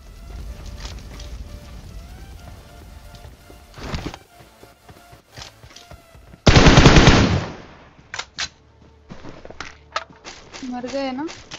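Bursts of automatic gunfire from a battle royale video game, including one loud, dense volley and scattered shots, mixed with footsteps and other game sounds.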